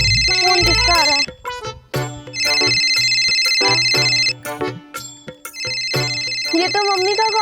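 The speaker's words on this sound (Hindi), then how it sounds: "अरे फोन किसका आ रहा है?" A melodic phone ringtone plays loudly in repeating bursts, with short gaps between them where brief voices and sounds come through.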